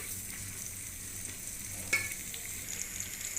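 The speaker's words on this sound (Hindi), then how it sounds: "तो घी हमारा गर्म हो चुका है, इसके अंदर हम लोग 3 अदद प्याज ऐड करेंगे।" Three onions frying in hot ghee, a steady faint sizzle with a single brief clink of utensil partway through.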